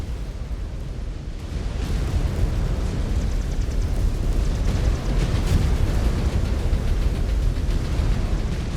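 An enemy mech blows up during city fighting in the video game Mechwarrior 5: Clans, a loud, sustained explosive roar and rumble that builds after the first second and keeps rolling, with no speech.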